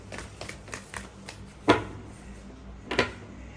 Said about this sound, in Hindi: चलिए एक कार्ड और लेते हैं।